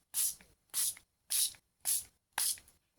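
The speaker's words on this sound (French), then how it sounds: "Je prends le spray gris du coup." Five short, sharp hissing bursts of grey glitter spray paint hit scrapbook paper in an even rhythm, each about a third of a second long, close and fairly quiet with silence in between.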